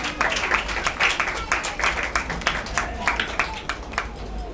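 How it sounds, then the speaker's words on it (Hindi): A church congregation at a Christian worship service claps together, a steady run of sharp, evenly paced claps that sounds close and fairly loud, with voices murmuring underneath. "जोरदार तालियां बजाएं।"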